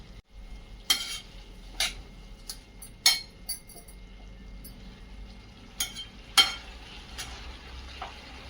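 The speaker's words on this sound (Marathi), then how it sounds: "दोन मिनिट आपल्याला हे तांदूळ असे परतून घ्यायचे आहेत" Rice being stirred and sautéed in a pan for veg pulao: a quiet bed of sizzling punctuated by sharp scraping clinks of a spoon against the pan at irregular intervals, close up with no talking.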